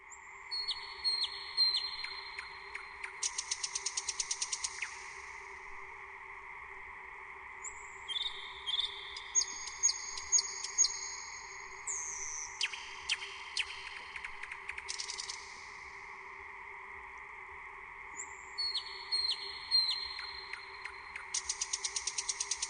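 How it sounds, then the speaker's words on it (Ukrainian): Recorded nightingale song played back, with bursts of rapid trilling and whistled phrases repeating in clusters over a steady background hum, moderately loud and continuous with short gaps. "А зараз насолодімося мелодійним співом солов'я."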